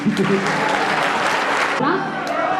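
A crowd at a poetry recital in Sultanpur applauds steadily and fairly loudly, with a voice talking over the clapping and urging more applause.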